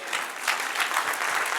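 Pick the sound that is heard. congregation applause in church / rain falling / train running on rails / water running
congregation applause in church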